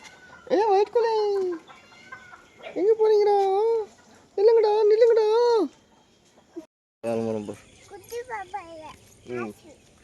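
A white hen clucks in several loud bursts, close by, followed by a person speaking over more clucking.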